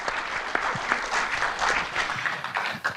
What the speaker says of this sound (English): can you please give our panel a huge round of applause for sharing so deeply, and Una as well